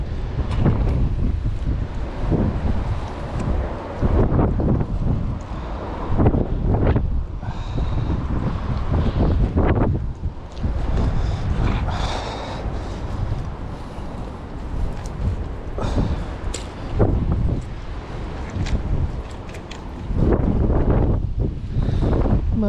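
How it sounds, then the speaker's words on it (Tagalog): Steady gusting wind roars across the microphone throughout, with a broad rumbling wash that suggests open water and a moving boat, no talking. "Malamig ang simoy ng hangin."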